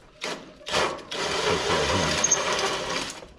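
Power drill boring out a rivet on the grille of a 1964 Chevrolet Impala, two short bursts followed by a sustained loud whirring grind close up.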